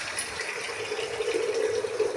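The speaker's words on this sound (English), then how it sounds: "pour water little by little" Water poured little by little during home cooking, a continuous close trickling and splashing that grows slightly stronger toward the end, with no talking.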